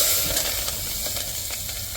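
Steady, close sizzling hiss of shallots frying in hot oil for chicken curry, continuous with faint crackles and no voices.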